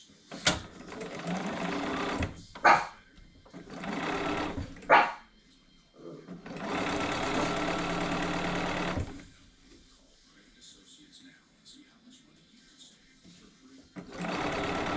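Sewing machine stitching fabric strips together in loud bursts of steady whirring, with short pauses between runs and a few sharp clicks or knocks.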